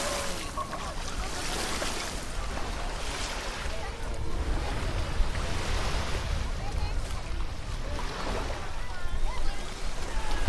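Sea waves washing onto a crowded beach at Santa Ponsa in hot August weather, a continuous surging wash with gusts of wind on the microphone and a background hum of many distant voices.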